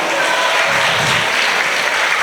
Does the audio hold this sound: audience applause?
yes